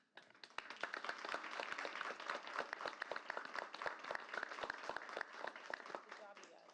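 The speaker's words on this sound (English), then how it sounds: "If I can get Drake and Victor and Jackson and Amy to stand for one more round of applause" Applause at a school board meeting as students stand to be recognized, a moderate room of distinct, fairly close claps building quickly and holding steady, with some faint talk mixed in.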